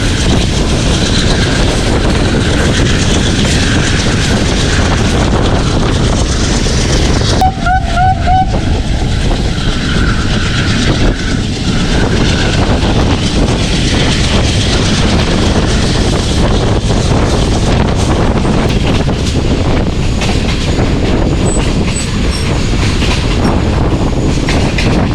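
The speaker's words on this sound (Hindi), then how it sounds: "शाहदराबाद रेलवे स्टेशन के ऊपर अप्रोच कर रही है 43 अब शाह हुसैन एक्सप्रेस" The Shah Hussain Express, hauled by an AGE30 locomotive, approaches Shahdara railway station with a loud continuous rumble and clatter of wheels on rails, brief sharp horn blasts sounding around the midpoint, heard close at track side with a voice briefly audible.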